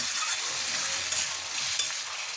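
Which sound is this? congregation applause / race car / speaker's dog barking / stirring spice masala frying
stirring spice masala frying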